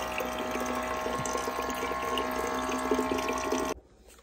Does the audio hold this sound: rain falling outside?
no